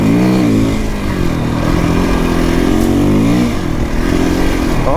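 A KTM 250EXC-F off-road motorcycle revs loudly and continuously at close range during riding practice on a narrow trail, its engine note rising and falling with no voices.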